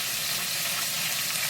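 Floured cube steak frying in a nonstick pan, a steady close sizzle with constant broadband crackle from start to finish and no talking.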